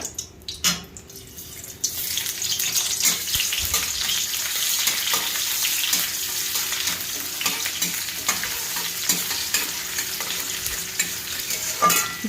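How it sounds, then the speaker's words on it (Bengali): Chopped onions sizzle in hot oil while being stirred for an egg korma. The frying crackles steadily and close, with clinks and scrapes from the stirring spoon throughout and no talk. "এবার কুচানো পেঁয়াজটা আমি লাল লাল করে বেরেস্তা করে নেব।"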